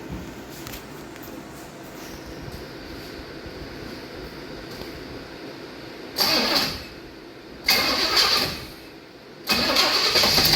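A Pontiac engine with a carburetor is cranked and started in a garage. A low idle rumble runs steadily, then three loud bursts of cranking and revving come in quick succession.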